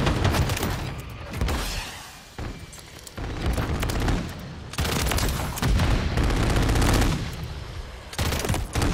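Automatic fire from a sentry gun in a Modern Warfare multiplayer match: loud rapid bursts of shots in repeated stretches with brief gaps, close and dominant, with no talking.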